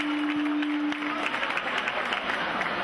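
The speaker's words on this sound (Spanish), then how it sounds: "Un aplauso para ella y la foto de rigor." An audience claps for a participant at a 2008 gastronomic showcase in Churriana, with a brief steady tone at the start and some voices mixed into the clapping.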